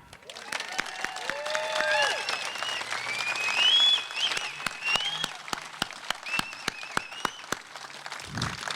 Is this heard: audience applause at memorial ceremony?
yes